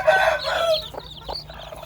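A hen clucks close by inside a cage holding her eight newly hatched chicks, giving a few busy clucks at first and then softer, scattered calls over a low steady hum.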